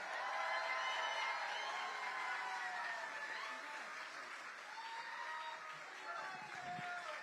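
Rally crowd in Austin, Texas applauding and cheering for a state representative, a dense, steady wash of clapping and whoops that stays loud throughout, with voices mixed in.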